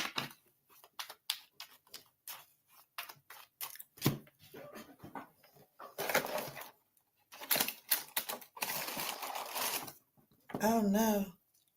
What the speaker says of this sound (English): I was typing my question.